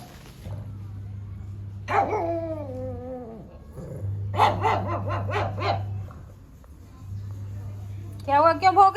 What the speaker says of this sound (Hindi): कोई भी जाता है तो भौंकना शुरू कर देती है।